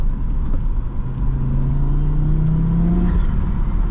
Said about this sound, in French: Le turbo, il est extrêmement présent.